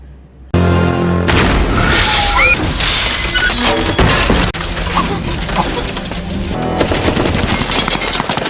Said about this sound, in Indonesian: terjadi serangan roket yang dilancarkan oleh kelompok mafia Jack